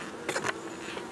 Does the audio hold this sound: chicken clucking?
no